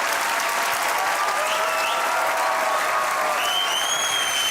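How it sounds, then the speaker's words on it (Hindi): A studio audience at a comedy talk show claps in sustained, dense applause, loud and continuous from start to end, with a few faint whistles mixed in. "थोड़ी तालियां बाकी प्रोग्राम के लिए बचाएं आप"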